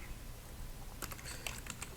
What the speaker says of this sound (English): So we're going to start typing